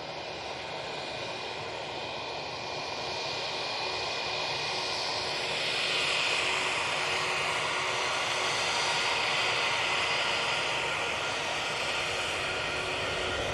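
A TAP airliner's jet engines spool up for takeoff at an airport, a broad steady roar that swells toward the middle and holds loud and continuous with no voices.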